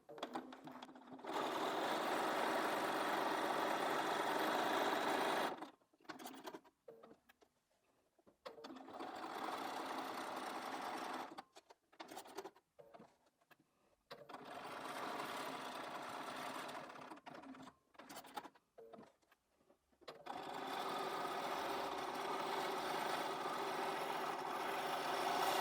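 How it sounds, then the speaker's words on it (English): A Bernina 570 sewing machine stitches a decorative stem on a fabric postcard, running in four steady bursts of a few seconds each with short quiet pauses between. "So I've chosen stitch number 11 on this Bernina, which is the Bernina 570, and that's what I'm going to use for the stem."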